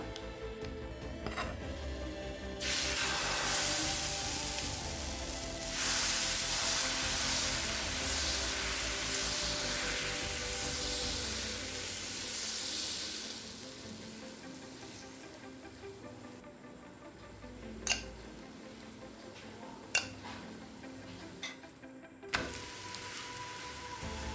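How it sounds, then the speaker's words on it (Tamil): Besan (gram flour) dosa batter hits a hot pan and sizzles as the dosa cooks. A loud, steady hiss starts a few seconds in and holds, then fades to a quieter crackle broken by a few sharp clicks and taps. "இப்போ இன்னொரு தோசை ஊற்றிக்கலாம்"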